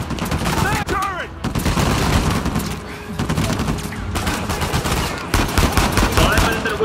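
A turret machine gun fires in Uncharted 4, loud sustained bursts of automatic fire broken by brief pauses. Shouting voices and other game effects come through over the gunfire.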